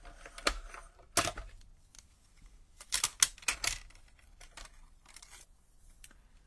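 Card pieces are cut out with scissors, the quiet snips and paper rustles coming in scattered bursts with brief sharper cuts between softer handling noises.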